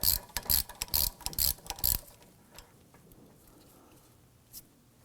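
A ratchet on an extension clicks rapidly in several short bursts while loosening a brake caliper bolt on a Volvo XC90, close and crisp, then falls quiet apart from faint handling noise.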